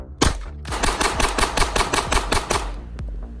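Taurus TX22 pistol fired in a rapid, steady string of about a dozen sharp, loud cracks, close to the microphone, with a final shot after a brief pause.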